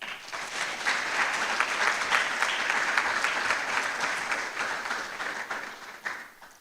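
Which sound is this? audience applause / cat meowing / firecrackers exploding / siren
audience applause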